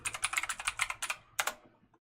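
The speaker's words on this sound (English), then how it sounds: "I'm going to go to this search bar and type in standard." Typing on a computer keyboard, a quick close run of crisp clicking keystrokes followed by a couple of separate taps, alone with no talk.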